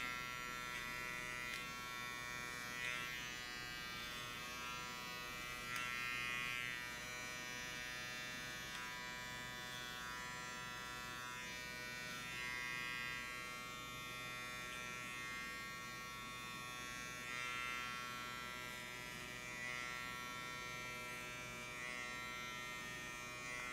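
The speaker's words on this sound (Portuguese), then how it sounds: "Sempre penteia novamente para baixo o cabelo e vem passando a máquina." An electric hair clipper buzzes steadily as it cuts a man's hair in a short social cut, run upward behind a comb guide; the drone is continuous and close, with slight swells as it bites into the hair.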